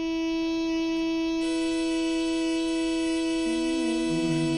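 A sustained harmonium chord with the higher dha, the 27/16 interval, sounds steadily and cleanly. Upper harmonics brighten partway through, and lower notes shift and waver near the end.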